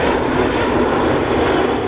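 Aerobatic airplane engines at the 2016 Tampa air show in Florida give a steady, loud, broad roar that holds unbroken throughout, with no voices over it.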